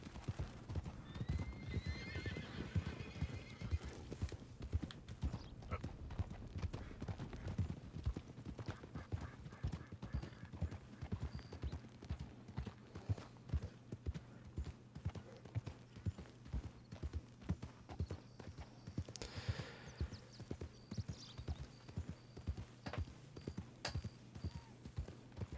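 Horses gallop in Red Dead Redemption 2 with steady, continuous hoofbeats and occasional whinnies, while a low game music drone plays underneath.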